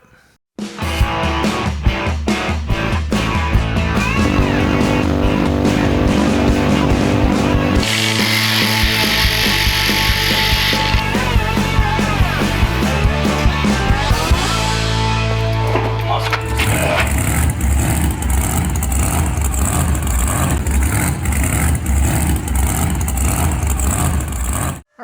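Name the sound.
drilling hard metal with a cobalt drill bit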